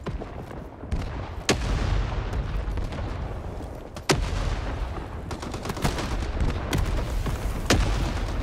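Heavy artillery and gunfire in the Vietnam war shooter Rising Storm 2: Vietnam, with loud sharp booms and shots over a constant rumbling battle din.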